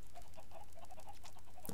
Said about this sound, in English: There's about 80 chickens in here, all laying eggs.